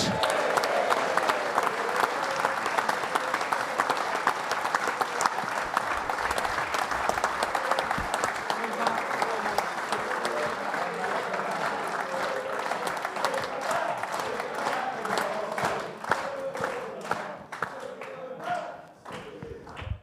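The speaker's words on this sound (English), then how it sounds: "So would you please welcome onto stage Matt Holland." An audience at an end-of-season football awards show applauds steadily as Ipswich Town legends come on stage. The clapping is dense and continuous throughout, with crowd noise mixed in.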